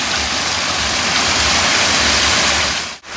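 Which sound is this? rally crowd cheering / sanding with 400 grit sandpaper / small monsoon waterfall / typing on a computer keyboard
small monsoon waterfall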